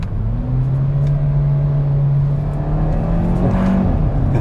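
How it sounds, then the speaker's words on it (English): 2021 Kia Forte GT sedan with a seven-speed dual-clutch transmission accelerating hard, a loud rising engine note that climbs steadily in pitch, then a quick gear change and a second climb. "this car will pick up speed really quick"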